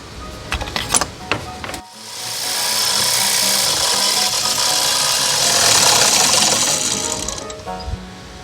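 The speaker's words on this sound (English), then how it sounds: "So we'll use this Forstner bit." A Forstner bit drilling out old glue from a wooden valve block in a silent-era bellows instrument, a few scraping clicks at first, then a loud, sustained whirring bore that rises slightly and winds down.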